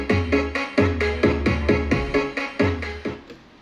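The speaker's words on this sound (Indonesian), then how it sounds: "250 Hz ke bawah dipangkas diumpankan di mid, bunyinya seperti ini, bisa didengarkan." Music fed through a crossover's mid output with everything below 250 Hz cut plays alone: a steady, rhythmic run of bright, punchy notes, about two per second, thin on bass.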